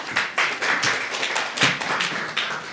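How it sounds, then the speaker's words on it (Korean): Clapping from a press-conference audience welcoming presenters to a Venice Biennale architecture exhibition briefing, a thin, uneven patter of individual claps, some louder hits standing out, with no talk. "박수로 맞이해 주시기 바랍니다"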